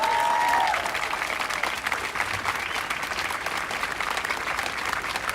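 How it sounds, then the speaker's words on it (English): Sustained applause from a large crowd at a community solidarity gathering at Temple Sholom in Vancouver, honouring the Vancouver police; dense, steady clapping fills the whole stretch after a brief tone at the start. "I want to give them another round of applause"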